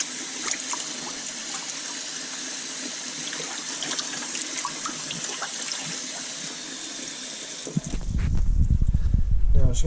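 Tap water runs into a plugged kitchen sink to soak salted Arctic char, a steady broadband hiss that swells into a louder, fuller gush of filling water near the end, with no talking.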